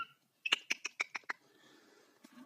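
A pet cockatiel parrot gives a quick burst of about six sharp, close squawk-like calls, followed by a softer hissing rustle that trails off, with no talk over it.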